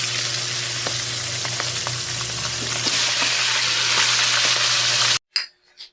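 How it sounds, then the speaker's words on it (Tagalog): Milkfish (bangus) steaks frying in a pan of hot oil, a steady loud sizzle with small pops and crackles for about five seconds before cutting off abruptly. "I-fry na po natin."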